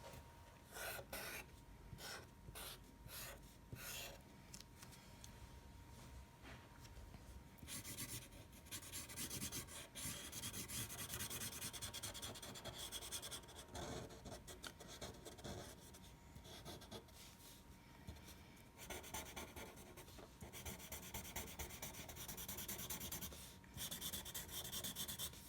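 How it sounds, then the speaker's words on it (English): A pencil traces over the lines of a monarch butterfly drawing on paper, making a soft, continuous scratchy rubbing close by, with short strokes that speed up and slow down. No one talks. "I'm just going over the lines of my pencil"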